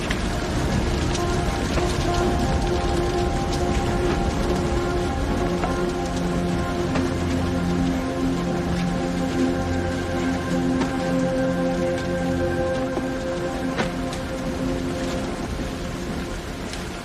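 Heavy rain pours steadily and loudly, a dense continuous patter layered with low droning tones like machinery, holding constant throughout with no voices.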